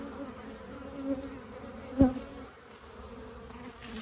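Honeybees buzzing around a hive during winter feeding with fondant, a faint continuous hum with a few louder passes close by, no talking.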